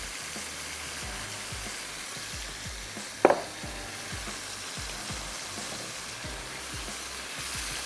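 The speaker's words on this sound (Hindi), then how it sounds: "गोश्त अब हमारा पका हुआ तो है, लेकिन हमने इसको अच्छे से भूनना भी है" Cooked meat is fried bhuna-style for tikka biryani with turmeric and browned onions, a continuous close sizzle with faint rhythmic spatters and a single brief clink of utensil partway through.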